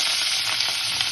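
Chopped fenugreek leaves frying in oil in a bowl, giving a steady close hiss and sizzle with faint stirring crackles and no voices.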